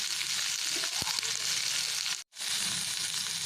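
Onion, tomato, chili and tamarind fry in a pan with a steady, close sizzle that holds throughout, broken by one brief silent gap near the end before the frying resumes.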